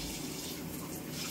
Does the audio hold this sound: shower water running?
yes